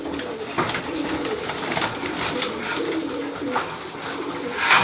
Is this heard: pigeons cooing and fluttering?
yes